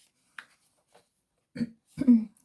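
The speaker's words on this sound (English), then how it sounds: "I'm so sorry about clearing my throat" Two short throat clears from a person with asthma, close and fairly loud, following a couple of faint brief clicks in a quiet room.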